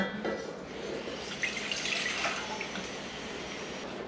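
White vinegar pours into a pot for bread and butter pickle brine, a steady close splashing stream with a bright liquid hiss lasting the whole pour, without talk.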